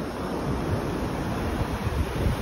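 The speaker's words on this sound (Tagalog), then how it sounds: "Lakas ng alon talaga." Strong surf on Khao Lak beach in Phang Nga, Thailand, rolls in as a steady, loud roar mixed with wind buffeting the microphone, with no voices.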